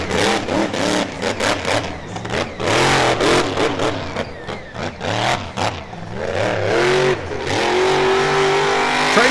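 The Triton monster truck runs at an All Star Monster Trucks show in Chattanooga, Tennessee, its engine loud and close in repeated revving surges that rise and fall, then hold a high sustained roar.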